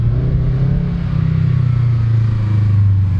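A Subaru BRZ/86 fitted with Tomei headers drones along at a low, steady engine pitch, close and fairly loud, with only slight swells in revs and no clear exhaust pops.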